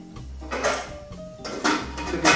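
A metal cooking pot filled with water clanks and scrapes on a kitchen stove, a few close handling knocks and rattles with short pauses between.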